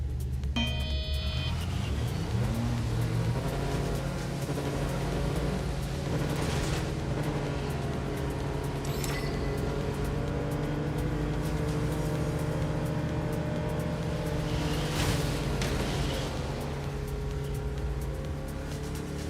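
Racing game cars drive in the rain, their steady engine drone and tonal whine holding throughout, with occasional brief revs and passing swells.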